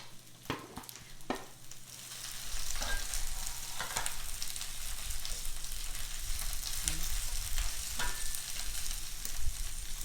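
Brussels sprouts and onions frying in a pan, a few clanks and stirs giving way to a strong, steady sizzle that stays loud and close throughout.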